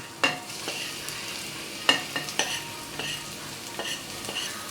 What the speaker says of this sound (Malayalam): പൊടികൾ ചേർത്തതിന് ശേഷം സ്റ്റവ് ഒരു മീഡിയം ഫ്ലെയിമിൽ വെച്ച് 2-3 മിനിറ്റ് നല്ലപോലെ വഴറ്റി കൊടുക്കാം